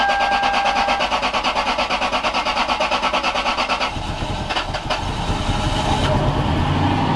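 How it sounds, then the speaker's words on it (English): The engine of a Lexus LS 430 cranks and catches on its first cold start in five years after a fuel-line repair. A rhythmic starter whir gives way to a loud, rough, close idle. "we could hear the first cold start in"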